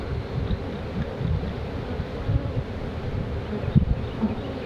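Agitated honeybees buzzing around an opened hive, a dense, steady, moderately loud hum with occasional closer individual bees passing the microphone.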